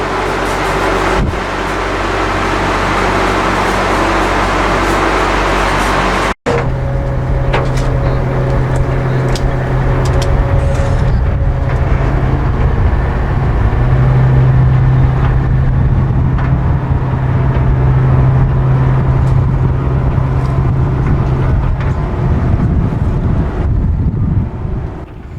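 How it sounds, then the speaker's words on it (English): A fishing boat's engine runs steadily at sea as the boat gets under way, a low continuous drone with a sustained hum and wind buffeting the microphone throughout. "I think the boat's about to move again."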